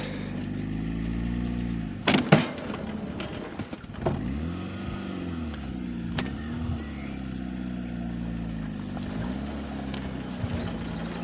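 A small tractor engine runs steadily under load while pulling a raised tiller through a pumpkin field, its low droning hum continuous and fairly close, with a couple of brief clanks and knocks early on.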